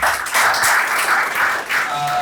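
Audience applause at a book launch, steady clapping from a crowd that fills the whole moment without pause.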